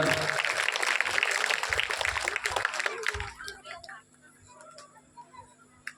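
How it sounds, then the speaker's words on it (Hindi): At a Shrimad Bhagwat Katha religious gathering in Jalandhar, the congregation claps vigorously for about three seconds. The clapping then drops away abruptly, leaving a quiet room with faint ticks and a low steady hum. "इनके लिए भी जोरदार तालियां"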